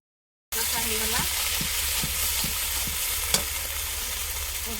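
Fish frying with masala in a pan, a steady close sizzle with a few soft scraping stirs and one sharp clink, no talking.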